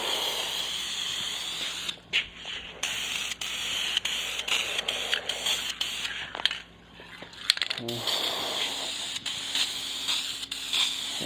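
Guide coat sprayed onto a sanded car body panel on a Honda Civic: close, airy hissing in a series of bursts with short breaks between passes.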